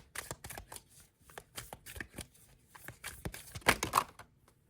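Tarot cards being shuffled up close in quick riffling bursts and soft flicks, with a sharper snap near the end, and no voices.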